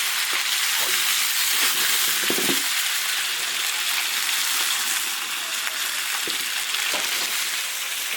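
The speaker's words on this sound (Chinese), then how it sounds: "鱼骨头煎好了" Continuous hissing sizzle of fish bones frying in a hot iron wok, with a few faint clinks and scrapes, no talking.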